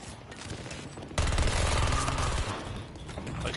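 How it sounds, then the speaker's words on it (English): Dense gunfire from an online shooter game crackles in rapid continuous bursts, growing louder and heavier partway through and staying busy to the end, with no voices over it. "now I'm getting shot"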